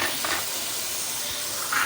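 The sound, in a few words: soy sauce poured into hot pan for Chicken Manchurian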